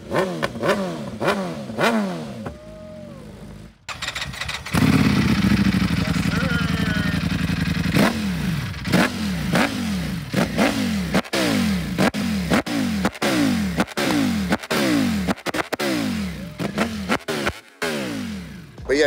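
Superbikes such as a BMW M1000RR and a Ducati Panigale V4 Speciale ride past and rev hard, giving repeated rising and falling engine sweeps with gear shifts and a sustained loud roar in the middle.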